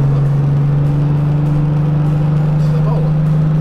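A Nissan 350Z at full speed on the Le Mans circuit, its engine a loud, steady droning hum heard from inside the car with constant road and wind noise, no shifts or pauses.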